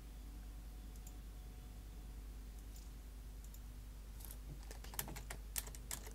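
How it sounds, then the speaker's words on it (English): Fingers type on a computer keyboard, faint at first and then a quick run of crisp clicking keystrokes over a steady low hum, with no talking. "I don't know why I'm typing"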